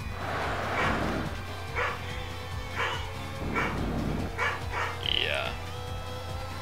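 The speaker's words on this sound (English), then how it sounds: "my dog's barking" A dog barks in short, repeated bursts, fairly faint, over a steady low engine drone from an Outrun 2006 racing game; no one speaks.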